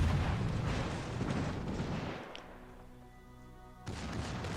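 Rear turrets of a battleship fire a salvo in the naval game World of Warships Legends: a heavy, roaring boom fills the opening seconds and then fades into a ringing decay, followed by another loud burst near the end.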